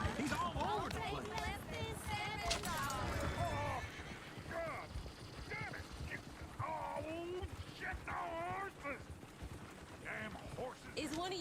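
A horse neighs and whinnies loudly several times amid clip-clopping hooves and the bustle of a stagecoach scene, with voices talking over the commotion.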